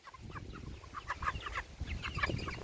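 Chickens clucking close by at a rural cabin-building site, several overlapping clucks and short calls running steadily throughout with no talking.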